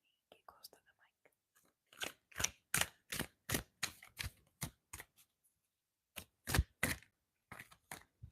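Tarot cards shuffled right against the mic in a close, quiet setting, giving a run of crisp riffling bursts in quick rhythmic groups with short pauses between.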